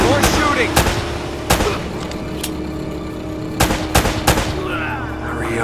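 Repeated gunshots and bursts of automatic fire in a shootout in the video game Uncharted: Drake's Fortune, sharp loud cracks at irregular intervals over continuous game background noise.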